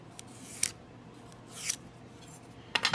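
A pencil scrapes along a straight edge in a woodworking shop, giving a few short, quiet scratchy strokes spaced apart, with a quicker cluster of strokes at the end and no talk.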